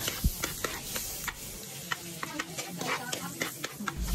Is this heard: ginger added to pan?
yes